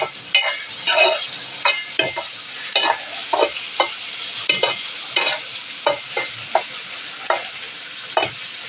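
Salt and garlic are stirred into yogurt for a fried pepper and zucchini dish, with regular rhythmic scraping strokes of a utensil against a bowl, close and fairly loud, about two strokes per second.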